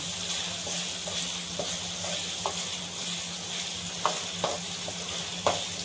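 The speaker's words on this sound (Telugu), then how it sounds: "ఒక 2 నిమిషాల వరకు అలా కలుపుకోవాలి" Tamarind pulp is stirred into homemade prawn pickle in a pan, with soft spoon clicks and scrapes over a steady, quiet sizzling hiss. No one speaks.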